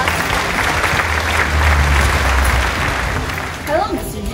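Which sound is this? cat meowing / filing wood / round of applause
round of applause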